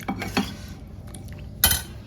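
Metal spoon clinking against dishes in a home kitchen, heard as three separate bright chinks spaced apart, with quiet room tone in between.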